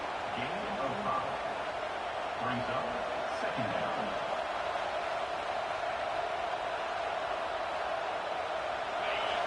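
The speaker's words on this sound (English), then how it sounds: "It's early, but this crowd is fired up. Listen to this noise here." A stadium crowd in the College Football 26 video game during a Notre Dame game, a steady, dense roar filling the background throughout while a commentator talks over it.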